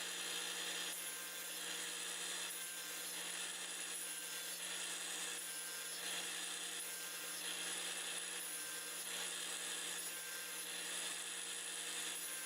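A power saw cuts cherry and walnut wood segments to length for segmented wood turning, a steady, loud whine with a bright buzzing hum that holds for the whole stretch without a pause.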